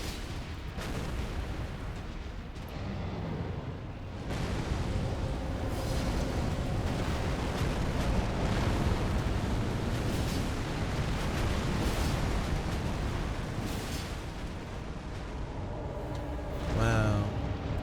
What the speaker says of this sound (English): giant spheres that will explode and leave fire on the ground